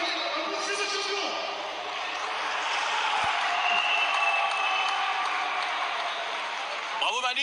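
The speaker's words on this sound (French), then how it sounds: "applaudissez le champion" Audience at an AFC Alpha Fight Championship MMA event in France applauding the champion, a broad, steady wash of clapping that fills the whole stretch, with a voice on a loudspeaker faintly over it near the start.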